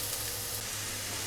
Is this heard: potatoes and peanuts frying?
yes